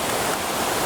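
Waterfall in a valley in Sichuan, China, fed by a lake above, pouring as a loud, steady, close wash of white water that fills the whole moment without pause.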